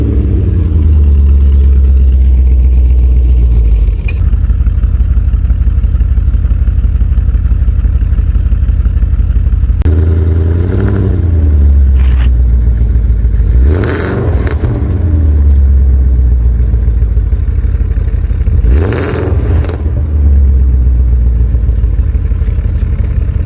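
A loud BMW E31 840ci V8 cold start with straight-pipe exhaust rumbles steadily for a long stretch, broken by three sharp revs that roar up and fall back, with harsh, raw exhaust noise throughout.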